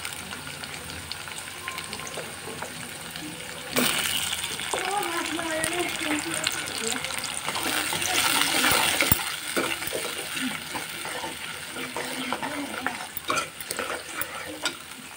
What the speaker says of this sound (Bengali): এই যে এখন টমেটোটা দিয়ে দিচ্ছি।